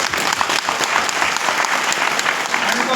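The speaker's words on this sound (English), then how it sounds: "And give a round of applause to yourself." A crowd at a DXN Qatar 20-year anniversary event claps steadily and loudly, dense overlapping applause with some individual claps standing out and faint voices beneath.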